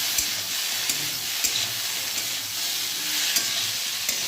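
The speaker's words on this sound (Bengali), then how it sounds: "এবার আরেকটু ভালো করে নাড়াচাড়া করব" Chopped vegetables with tomato sizzling loudly in a pan, a dense continuous hiss broken by regular spoon knocks and scrapes as they are stirred.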